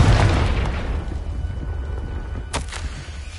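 A Confringo explosive spell blast in the Hogwarts Legacy video game: a loud, deep booming burst that rumbles for a couple of seconds, with a sharp crack of impact near the end.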